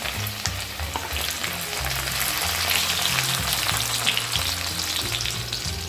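Ginger and garlic sizzle and fry steadily in hot vegetable oil for an Indian mashed eggplant dish, a dense continuous crackle at close range with no talk over it.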